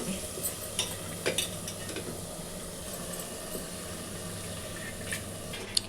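Marinated chicken is stirred in a pan over a faint, steady sizzle, with soft clicks and scrapes of a spoon against the metal scattered throughout.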